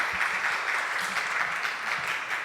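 A church congregation claps steadily in celebration, a dense, even wash of many hands applauding together in a large room, with no speech.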